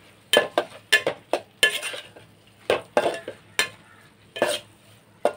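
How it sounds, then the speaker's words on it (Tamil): Coriander leaves are sautéed for tomato rice with a series of sharp, close stirring scrapes and clinks of a spoon against the pan, repeated in an uneven rhythm over a faint sizzle. "அதையும் நல்லா வதக்கி விட்டுடலாம்."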